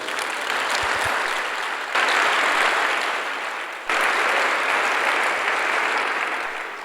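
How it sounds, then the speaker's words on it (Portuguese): Congregation applauding at a pastors' gathering in a church, steady dense clapping that swells and fades in waves, with no talk over it. "Dá um aplauso ao Senhor."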